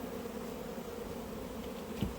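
Honey bees buzz steadily during an apiary hive inspection, a dense continuous drone from a large colony heard close up, with a brief louder swell near the end and no talking.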